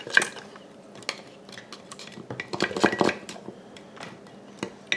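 A spoon stirs a yeast mixture in a glass jar, giving scattered light clinks and scrapes over several seconds, close and fairly quiet, with no talking.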